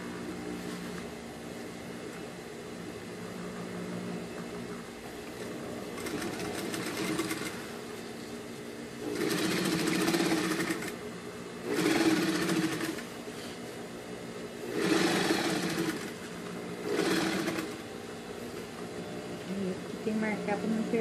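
A sewing machine stitches a pocket onto a bag in short bursts of whirring, close and moderately loud, broken by pauses while someone talks throughout.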